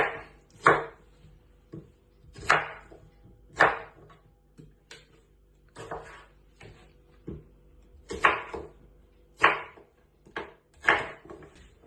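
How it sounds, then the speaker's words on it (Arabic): A knife chops an onion into quarters on a cutting board for Mosul-style araouk filling: a dozen or so crisp, separate thuds at an uneven pace, close and clear, with no talking. "راح نقطع البصل على شكل أرباع"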